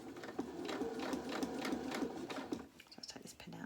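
Sewing machine stitching a reusable fabric storage bag, a steady fast mechanical chatter running for a few seconds, then slowing into short bursts as a couple of stitches go forward and back.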